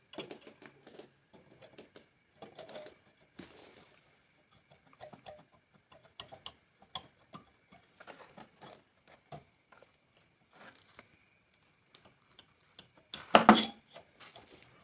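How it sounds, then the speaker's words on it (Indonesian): Cylinder block being fitted onto a Honda Revo engine, with scattered close metallic clinks, taps and scrapes of parts being handled, and one louder clank near the end. "Sekarang kita masukkan bloknya teman-teman."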